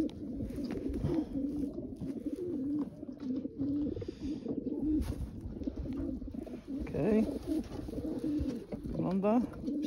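Janssen De Klak racing pigeons coo in a loft, a steady layered murmur of soft rolling calls running throughout, with someone talking close by over them.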